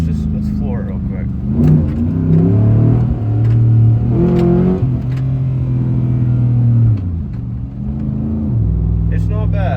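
A pickup truck with a badly cracked frame revs hard, its engine rising and falling in several loud surges of deep, rumbling roar over about ten seconds.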